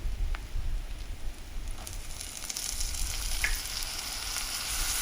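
Tomato and garlic fry steadily in a pan, a continuous close sizzle and crackle with faint spatters, no voices over it.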